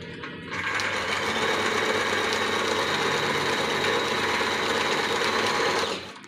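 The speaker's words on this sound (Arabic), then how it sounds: "دي كده الخياطة زي ما انتوا شايفين، خياطة المكنة اهي." A used sewing machine at a secondhand machine market stitching in one steady, loud run of rapid mechanical whirring that starts and stops cleanly and lasts about five and a half seconds.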